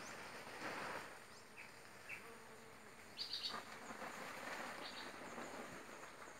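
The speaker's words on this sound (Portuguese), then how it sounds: "ver essa festa das abelhas aqui" Bees buzzing around flowering annatto (urucum) plants on a small farm, a steady faint hum with a few closer buzzing passes, no voices.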